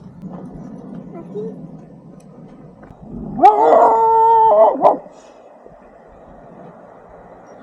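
Street dog in a Peruvian mountain village lets out a loud, drawn-out howl lasting about a second and a half, rising over a quiet background where a voice talks faintly before it.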